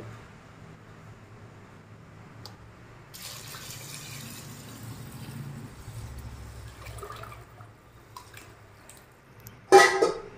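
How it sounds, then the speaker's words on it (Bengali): Hot water pouring into a cooking pot for egg chicken fried rice, a running, splashing stream rising in the middle and tapering off, followed by a brief sharp clatter at the very end. "এখানে আমি গরম জলটাকে ঢেলে দিলাম"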